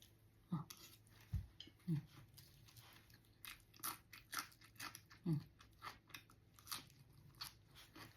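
Close crunchy chewing and biting on fresh, sweet, crisp shoots of flowering Chinese cabbage picked from a garden, irregular bites and crunches spread across the clip with faint background noise and no talking.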